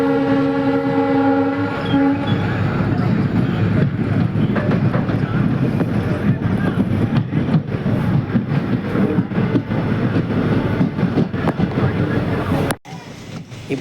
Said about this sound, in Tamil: இப்போ மெயின் லைன்லேருந்து லூப் லைனுக்கு மாறுது பார்த்தீங்களா.